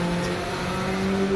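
A car engine drones steadily in Gran Turismo 7 while driving, a sustained even hum with no talk over it.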